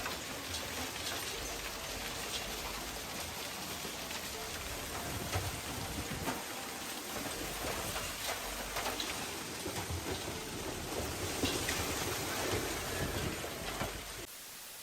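Steady heavy rain, with hail beginning, pelts down during a storm in a hard, continuous hiss with dense pattering that stays loud throughout.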